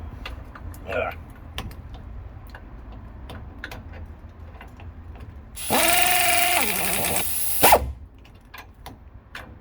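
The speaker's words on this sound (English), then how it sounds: "I'm gonna put the bolts back on slowly." A power tool runs in one loud burst of about two seconds, threading wheel bolts back onto a 2016 Dodge Ram 4x4 during a wheel bearing replacement, amid scattered clicks and taps in a garage.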